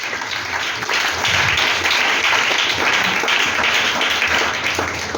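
A church congregation applauds the Lord in a dense, loud, sustained roar of many hands clapping together, steady from start to finish with no voices standing out.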